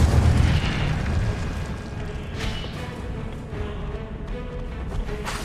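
Fiery spell burst from the Incendio charm in Hogwarts Legacy, a loud whooshing flame blast with a booming low rumble that holds steady for several seconds, with no talk.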